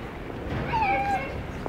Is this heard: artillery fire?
no